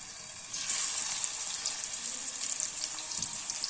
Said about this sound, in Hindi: अब एक पैन में थोड़ा सा ऑयल ले लेंगे और इन कबाबों को उसमें डालेंगे।